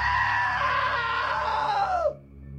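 A loud, sustained scream comes from a character in the video game What Remains of Edith Finch, holds for about two seconds, then bends downward and cuts off abruptly into a quiet hum.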